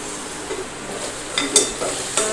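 Vegetables cooking in a pan while being stirred, a soft steady sizzle punctuated by a few sharp utensil clinks and scrapes near the end, close with no speech.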